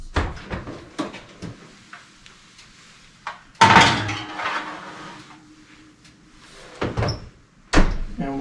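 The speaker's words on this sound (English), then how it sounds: "So let's put the mushrooms in the oven." An oven door opens and bangs shut as a tray of seafood-stuffed mushrooms with crab and shrimp goes into an upper oven set to broil, with a loud thud midway and clattering pan and door sounds around it in a home kitchen.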